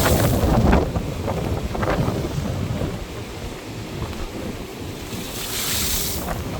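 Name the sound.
sea waves and wind on beach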